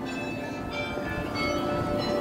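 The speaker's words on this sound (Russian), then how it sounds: "Как и везде колокола бьют." Church tower bells strike in Bruges, Belgium, a sustained ringing tone held steadily for a couple of seconds over faint outdoor background.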